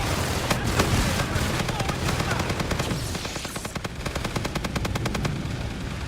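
Rapid automatic gunfire from Infinite Warfare Zombies, The Beast From Beyond map, rattling in dense continuous bursts with sharp single shots mixed in, loud and close throughout.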